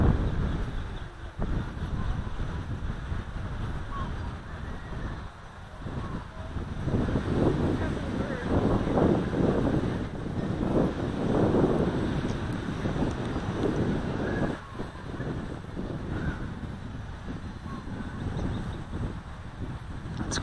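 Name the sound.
Kona wind blowing during quadcopter flight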